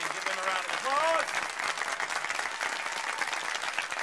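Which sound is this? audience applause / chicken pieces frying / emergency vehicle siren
audience applause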